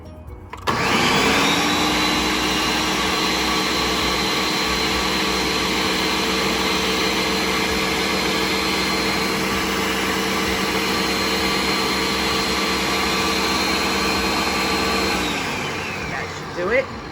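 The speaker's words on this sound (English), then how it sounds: "So now we've got all our ingredients in the blender and we're just gonna blend it." A kitchen blender whirs steadily and loud, blending coquito ingredients including nutmeg and vanilla extract, holding one even drone for about fifteen seconds before winding down.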